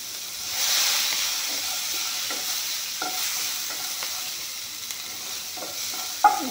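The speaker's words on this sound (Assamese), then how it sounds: "এইখিনি অলপমান ভাজি ল'ম" Onion and garlic fry with five-spice in hot oil in a pan, giving a steady close sizzle and hiss. A few light scrapes and clinks of stirring come through, with one sharper tap near the end.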